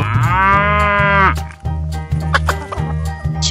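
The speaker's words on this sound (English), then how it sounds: "Cow." A cartoon cow lets out one long, loud moo over a thumping children's music beat, and the music carries on afterward.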